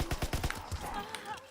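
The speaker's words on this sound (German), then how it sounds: "Und verschießen wir jetzt mal die MP." Rapid bursts of submachine gun fire in Call of Duty WWII zombies mode, a quick run of sharp shots up front that thins out, with game sounds and a voice mixed in.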